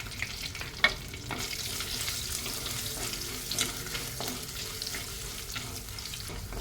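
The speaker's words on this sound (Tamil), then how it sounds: "பூண்டு நல்லா பொரிஞ்சு வாசனை வருது பாருங்கள்" Finely chopped garlic sizzling in hot oil in a pan, a steady close crackle and fizz with occasional stirring scrapes and one sharp clink near the start.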